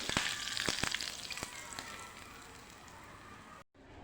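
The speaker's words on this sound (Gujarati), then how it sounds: "આ વઘારને આપણે ઉપરથી આવી રીતે રેડી દઈશું" Hot tempering poured over dhokla hits with a loud, steady hissing sizzle and scattered crackles, easing gradually before cutting off abruptly near the end.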